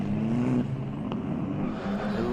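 Race cars from an F4 race at Most roll back onto the starting grid, a steady low engine drone with a slight rise in revs, fairly close and continuous throughout.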